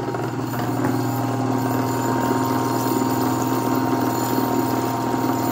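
A 5-horsepower three-phase electric motor run on single-phase power hums loudly and steadily, a constant mechanical drone with strong low tones that holds unchanged throughout, no voices.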